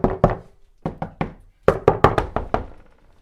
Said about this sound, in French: Ici, il frappait à 1000 portes, toutes closes et défendues.